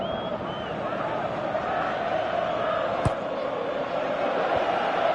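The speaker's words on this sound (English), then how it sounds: "at least the crowd are appreciative of his efforts" A stadium crowd in the Pro Evolution Soccer 2018 football game gives a steady, loud roar of appreciation after a near-miss shot, a continuous dense wash of cheering throughout.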